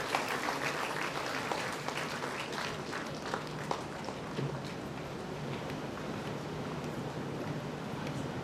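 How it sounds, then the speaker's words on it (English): Audience applause at an agricultural graduate students' conference valedictory session, a steady dense wash of clapping from a large crowd lasting throughout, fairly even in level with no voices over it. "Please encourage the students by giving applause."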